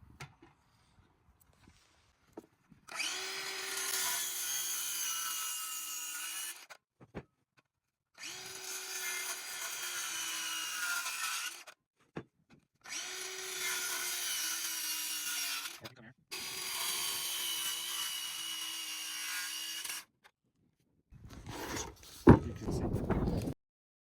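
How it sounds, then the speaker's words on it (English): Power saw, a miter saw set to 45 degrees, cutting a timber corbel all the way around in four loud, steady passes of about four seconds each, with short pauses between cuts and a brief burst of handling noise at the end. "Set your saw to a 45, and we're going to cut all the way around."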